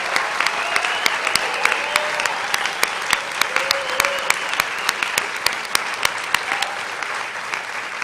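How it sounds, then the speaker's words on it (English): A commencement audience at Northwestern Health Sciences University's 2019 graduation applauds the graduates, a full, sustained roar of many hands clapping at an even level throughout. "please join me in applauding these graduates for their incredible achievements."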